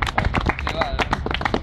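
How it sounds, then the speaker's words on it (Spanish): Crowd at a freestyle rap battle claps and shouts in a brief, lively burst, with voices mixed in. "¡Aplauso!"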